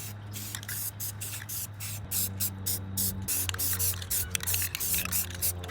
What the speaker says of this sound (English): then I sprayed the spray paint